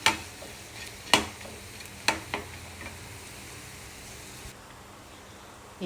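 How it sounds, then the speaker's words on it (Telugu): Snack pieces frying in oil in a non-stick pan for an evening treat, a steady soft sizzle with a few sharp clinks of utensil against the pan early on, close and moderately quiet, no talking. "మిగిలి కూడా వేసేసానండి ఒక రెండు నిమిషాలు అయితే వేగిపోతాయి"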